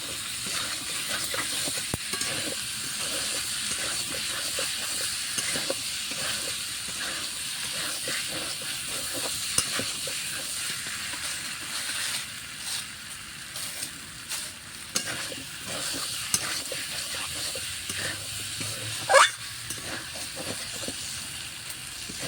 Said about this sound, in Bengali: এবার এইগুলোকে ভালো করে কষিয়ে কষানো হয়ে গেলে জল দিয়ে দেবো